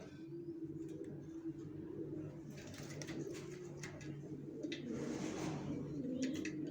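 Baby racer pigeons coo in a low, continuous murmur close by, with soft rustling and flutters over a steady background hum.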